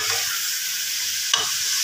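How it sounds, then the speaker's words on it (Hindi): Vegetables sizzle steadily while being stir-fried in a pan for a potato and spinach dish, a close, continuous hiss with a brief scrape of stirring near the end. "इनको तकरीबन हमने 2 मिनट भूनना है।"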